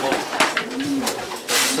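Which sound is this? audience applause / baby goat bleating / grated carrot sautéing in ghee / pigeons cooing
pigeons cooing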